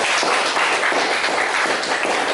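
Classroom applause for a student's presentation during a teaching exam, a dense steady wash of many hands clapping together for a couple of seconds, fairly loud and continuous without talk.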